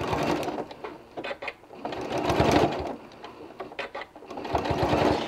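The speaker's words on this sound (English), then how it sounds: "as I stitch over, we're going to go back and stitch over that again" A sewing machine stitches fabric scraps for a small gift card case, running in several bursts of rapid mechanical whirring with brief pauses between, close and fairly loud, no talk.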